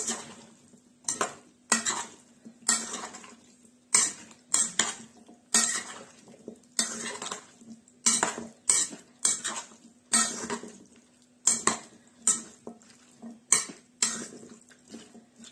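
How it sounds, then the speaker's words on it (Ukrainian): Moussaka filling is stirred in a metal pan, making repeated loud scraping and clanking strokes in an irregular rhythm, close up, with quiet gaps between them. "Перемішуємо"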